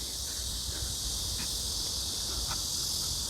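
A cicada outdoors gives a steady, high, hissing drone that runs unbroken for the whole stretch, faint and somewhat distant, with no talking.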